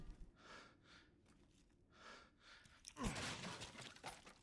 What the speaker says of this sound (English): Why are you breathing heavy?